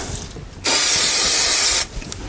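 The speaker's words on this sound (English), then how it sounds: "if I just spray a little bit of semi-permanent spray adhesive on there" A can of semi-permanent spray adhesive sprays in one steady hissing burst lasting just over a second, close and loud, between quiet moments.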